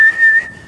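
A single person whistles a short, bright, steady note, imitating a trumpet call. It is close and loud, lasts under half a second and then breaks off.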